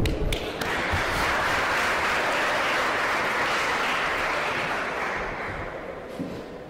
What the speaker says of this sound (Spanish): un aplauso para recibirlo